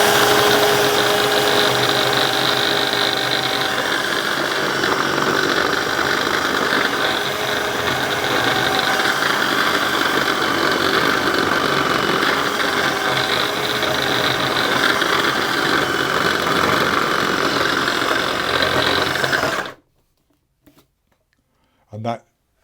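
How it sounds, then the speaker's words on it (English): A food processor mixing pastry dough for a cake tart runs as a loud, steady whir for about twenty seconds, then cuts off abruptly, followed by a couple of small clunks. "I'm now going to process this and scrape the bowl down if I need to, until the mixture starts to clump together into a soft dough."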